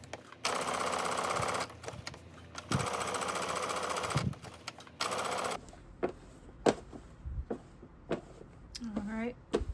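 Sewing machine stitching the pocket facing of a jumpsuit, running in several bursts of steady rapid whirring, then stopping as a voice talks over sparse clicks and handling noises.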